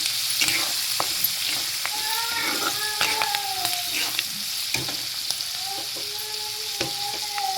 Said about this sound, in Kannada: ಈ ಕರಿಬೇವಿನ ಸೊಪ್ಪು ಹಾಕಿದ್ದೀನಿ